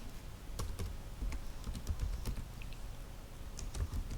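Computer keyboard keys tapped while typing code during a programming lesson on control structures, a quick irregular run of close, light clicks with short pauses, no talking.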